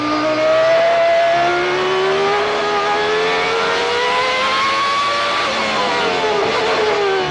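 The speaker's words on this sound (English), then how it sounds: "Going very low in the revs, listen." A Williams Renault Formula One car engine holds low revs on a long right-hand turn, a steady close drone with slowly rising and falling pitch and no talk over it.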